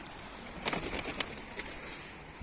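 Pigeons flutter their wings in a few quick flapping bursts with soft cooing at moderate distance outdoors, mostly in the first half, with no talk.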